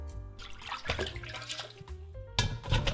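Lamb brisket rinsed in clean water in a home kitchen: splashing, sloshing and tap-running water with dripping and clatter, fairly close, ending in a louder splashy burst.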